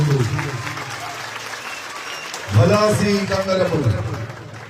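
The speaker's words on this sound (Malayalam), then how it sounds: "അതിനുള്ളൊരു കൈയടി കൂടി കൊടുത്ത് രണ്ട് ടീമിനെയും" A crowd at a tug-of-war match applauds both teams. A burst of clapping rises about halfway through and keeps going under someone talking loudly nearby.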